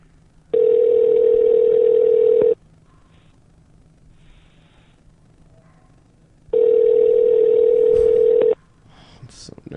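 Outgoing call ringback tone on a telephone: two long, loud, steady electronic tones each lasting about two seconds, separated by a quiet pause, with faint breathing and rustling in between.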